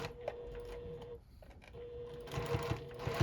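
A JUKI sewing machine stitches a double-fold bias-bound fabric corner, giving a quiet, rapid mechanical whir with a brief pause midway before it resumes.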